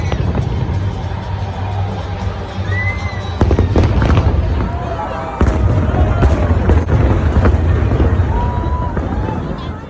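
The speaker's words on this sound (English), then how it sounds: "While we were here, there were fireworks." Fireworks burst over Al-Wasl Plaza at Expo 2020 in a loud, rapid sequence of booms and crackles, with a crowd murmuring and calling out beneath them.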